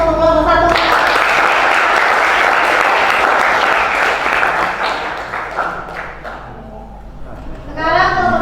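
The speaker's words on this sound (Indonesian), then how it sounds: "Silakan beri aplaus untuk kelompok 1." Students in an Indonesian classroom applaud group 1 with a burst of clapping that starts loud, thins out and then fades, framed by a teacher speaking at the start and end.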